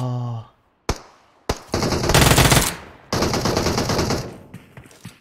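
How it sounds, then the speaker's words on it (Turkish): Automatic weapon fire in the video game PUBG Mobile rings out in loud, rapid bursts separated by brief pauses, with sharp single reports between the longer volleys. "Daha özel bir silahla vuracağım seni."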